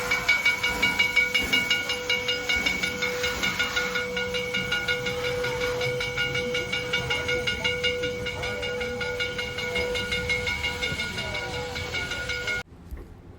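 Steam train in the Black Hills of South Dakota hissing steadily and loudly at close range, with a sustained whistle-like tone and rhythmic chuffing pulses throughout before cutting off near the end.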